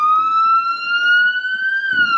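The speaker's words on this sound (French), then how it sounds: "Et si tu fais un petit coup de sirène basique américaine," A single steady siren tone from a Dodge Charger police car holds loud and close, rising slightly, then dips briefly near the end.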